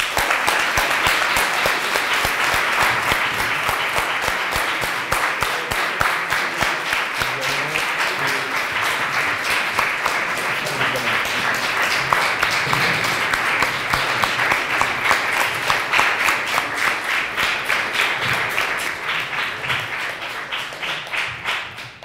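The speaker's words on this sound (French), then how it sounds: "Et on peut applaudir cette équipe." Steady, sustained applause from a large crowd at a cup final, dense clapping that continues evenly for over twenty seconds before tapering slightly at the end.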